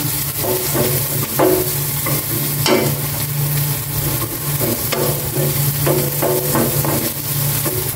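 Chopped onion sautéing in oil in a home kitchen before corned beef goes in, a steady loud sizzle with repeated scraping stirs of a spatula against the pan throughout.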